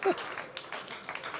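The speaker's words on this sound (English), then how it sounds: "Oh, you are clapping." Audience clapping during an emotional church sermon and testimony: a short burst of scattered applause, moderately close, with a voice speaking over it.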